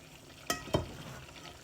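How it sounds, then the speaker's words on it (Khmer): Chicken being stir-fried with spice paste in a pan: two quick, close scraping strokes over a soft, quiet sizzle. "ឆាគ្រឿងមាន់"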